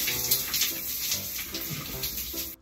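Shower water running in a home bathroom, a steady close hiss of spraying water with slight splashy fluctuations, ending abruptly, no voices.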